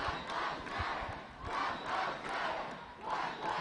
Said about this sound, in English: You can hear them chanting Black Lives Matter.